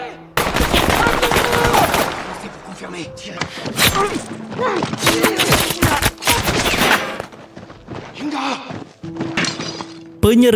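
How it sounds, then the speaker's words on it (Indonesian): Automatic gunfire from a war film about Chinese troops battling Americans, loud bursts of rapid shots and impacts filling the scene, broken by brief pauses, with a voice speaking over parts of it. "di mana mereka diserbu oleh deru tembak yang brutal"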